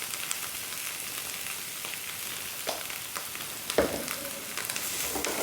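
Boiled, mashed potatoes mixed with spices and salt sizzle steadily in a pan, a continuous hiss of frying with a few soft scrapes and knocks of stirring near the end.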